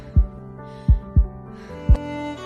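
A heartbeat sound effect plays as four deep, booming thumps over a sustained hum, loud and close, with uneven spacing between the beats.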